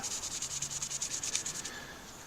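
Rapid, rhythmic scraping of sandpaper on a wooden tobacco pipe, about a dozen quick back-and-forth strokes, close up, then trailing off.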